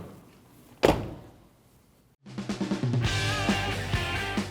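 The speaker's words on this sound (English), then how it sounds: "Now check if your door closes and opens." A 2013-2019 Ford Escape front car door thumps shut, a pause, then a rattling mechanical clatter as the door is worked open and closed again, close by.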